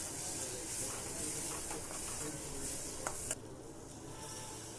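A steady, close hiss of cumin, coriander, chilli and turmeric powders frying with tomato paste in a pan, for a dhaba-style Bengali cauliflower curry. It holds even throughout, with a brief clink near the end.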